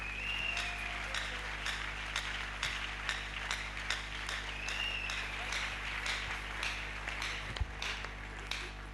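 Church congregation at an evangelical week event in DR Congo applauding and cheering, steady clapping with repeated sharp hand hits and some voices under a constant low hum.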